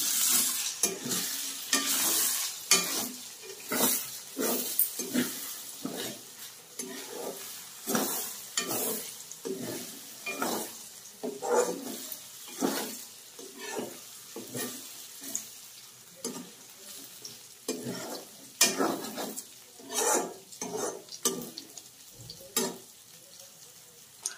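Egg fry with onions being mixed in a pan gives a long run of rhythmic scraping stirs, roughly one every second, over a soft steady sizzle, without talk.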